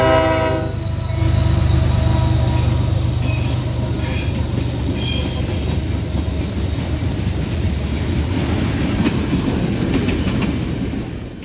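Freight train 142 rolls into a siding, loud and close, a deep steady rumble with a horn sounding at the start and rhythmic wheel clatter and faint squeal as the cars pass.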